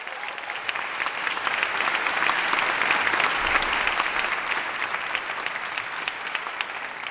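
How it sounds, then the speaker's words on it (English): Audience applause at the Skoll World Forum fills the hall with steady, dense clapping for about seven seconds, rising slightly in the middle and then easing, with no speech over it. "I'm asking you to join me in giving yourselves a round of applause."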